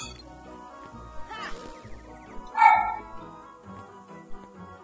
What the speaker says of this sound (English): Hit them, my dog, Cindy!